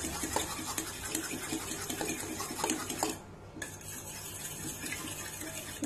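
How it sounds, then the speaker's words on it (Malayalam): Eggs are beaten with a fork in a bowl for bread pancakes, making quick, rhythmic light tapping and clinking that runs steadily with one brief pause, fairly quiet and up close. "അപ്പൊ ഞാൻ നല്ലതുപോലെ മുട്ട ബീറ്റ് ചെയ്യുവാണ്."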